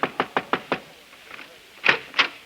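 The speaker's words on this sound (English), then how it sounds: "I'll knock on the door and see if she's ready to leave." Knocking on a door in an old radio comedy broadcast: five quick, evenly spaced raps, a short pause, then two more separated knocks, crisp and close.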